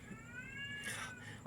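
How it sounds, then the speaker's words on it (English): A cat meows in the background, a thin drawn-out call heard faintly behind room noise, with a brief louder sound at the very end. "that is my cat meowing because he wants attention or food"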